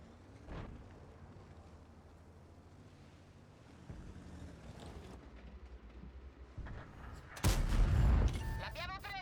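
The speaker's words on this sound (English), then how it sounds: "Some shots." Gunfire in the tank video game Steel Hunter, with scattered shots under a steady rumble, then a loud, close burst of blasts and bright ringing tones near the end.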